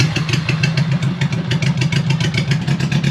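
A 1975 Honda Goldwing motorcycle engine, revived after sitting for 41 years with a muffler missing on one side, runs loud and close with a rough, throbbing, uneven idle and steady clattering pulses.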